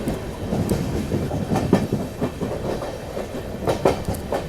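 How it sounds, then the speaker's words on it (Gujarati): A Shanti Express sleeper-class train runs at speed out of Ahmedabad toward Ujjain, with a steady rumble and a rhythmic clickety-clack of wheels on the rail joints, heard close from inside the coach. "ટ્રેક સાઉન્ડ તમે મિત્રો સાંભળી શકો ટ્રેનનો."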